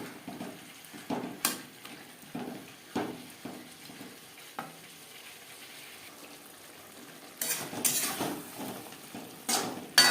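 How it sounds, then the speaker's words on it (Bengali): Cauliflower cooking with spices in a pan over medium flame, a faint sizzle broken by repeated stirring scrapes and utensil clinks against the pan. "মশলার সাথে 3-4 মিনিট ফুলকপি কুক করে নেব।"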